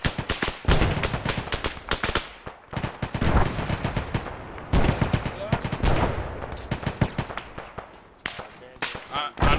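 Rapid gunfire from an ARMA 3 firefight during an armored cavalry patrol, with dense bursts of automatic shots and single cracks filling the whole stretch, loud and close, while players talk over it.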